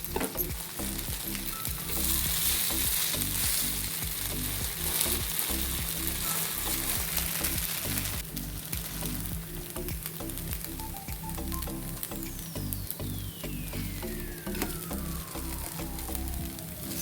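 Sabudana thalipeeth pan-roasting on medium gas gives a steady, close sizzle and fry crackle that runs throughout, with some low rhythmic background hum beneath.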